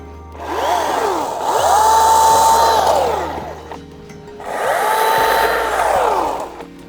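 Milwaukee 18V cordless top-handle chainsaw cutting through an overgrown tree in winter, with two loud sustained bursts of high-pitched whining motor that rev up, hold steady and wind down, separated by a short lull.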